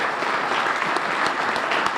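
Audience applauding at a State of the County, City, and Town address, a dense steady clatter of many hands clapping throughout.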